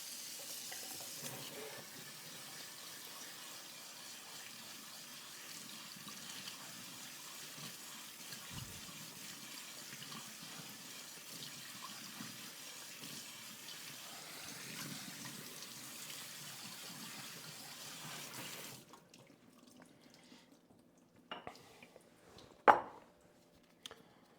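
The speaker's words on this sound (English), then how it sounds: "you're going to run it under cold water until it runs clear" Cold tap water runs steadily into a sink as grated potato is rinsed, a continuous hissing flow that stops near the end, followed by a few faint clinks and handling sounds.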